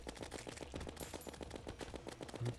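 Rapid, evenly spaced shotgun blasts from the Terraria Calamity Mod video game hit training dummies in a steady, dense volley with no pauses.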